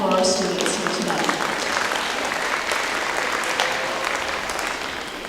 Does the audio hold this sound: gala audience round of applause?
yes